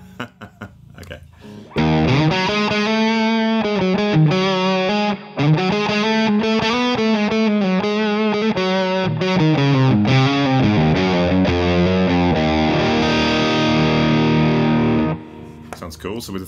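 Electric guitar played through an AmpliTube 5 Orange amp simulation with modest gain and a 4x12 cabinet, strumming loud, sustained, mildly overdriven chords for about thirteen seconds with one brief break, framed by short bits of talk at the start and end.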